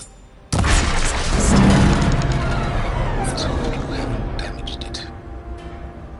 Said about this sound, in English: Maybe I can shoot the coupling on the arm.